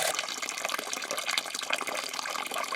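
Coolant and flush water draining from a Mercedes-Benz W126 S-Class, a steady rushing gush of liquid splashing into a container, continuous and fairly close.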